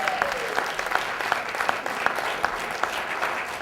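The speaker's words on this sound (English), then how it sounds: "let's hear a nice round of applause for our students in our first category" Audience applause for students at a college elevator pitch competition, a steady patter of many hands clapping at moderate distance, filling the room without talk.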